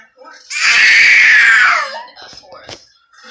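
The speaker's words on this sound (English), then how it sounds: "Must you scream?" A child lets out one loud, high, sustained scream lasting about a second and a half, followed by a few faint short vocal sounds in a quiet room.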